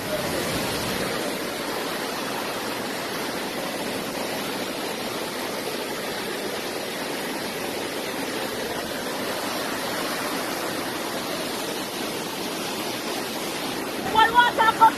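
Floodwater rushes through Jamaica in a loud, continuous broadband roar like a torrent, steady and unbroken across the whole span, with a few brief sharper sounds near the end.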